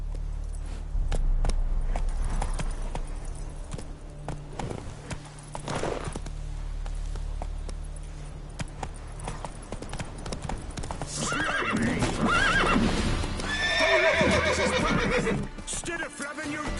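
A horse gallops in The Witcher 3, its hooves drumming a steady rhythm before a loud, close neigh and whinny rise near the end. Game sounds run underneath and a voice speaks briefly.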